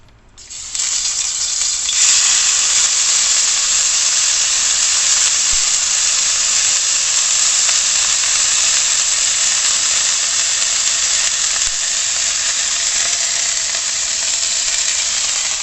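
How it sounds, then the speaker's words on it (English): Curry paste hitting a hot pan for a chicken curry, a loud steady sizzle and hiss that bursts in within the first second and holds, broad and unbroken, to the end with no talk over it. "now the pan is already hot. I'm going to put in the paste right inside."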